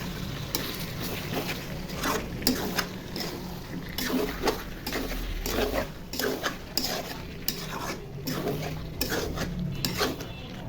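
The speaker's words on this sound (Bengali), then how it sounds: "মাংসটা ঢাকনা উঠে নেড়ে চেড়ে দিই।" Continuous stirring and scraping in a pot of chicken bhuna with fried onions, a spoon dragging and knocking against the metal in a steady rhythm over a faint sizzle, close and fairly loud throughout.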